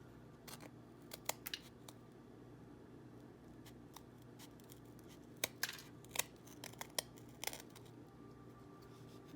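Scissors snip through gingerbread house pieces at a kitchen table, giving scattered sharp clicks and short cuts, faint and close over a low steady hum.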